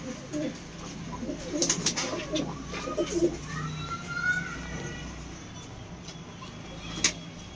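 Low, soft pigeon cooing in short bursts near the start, with outdoor background noise, faint voices and a couple of sharp clicks.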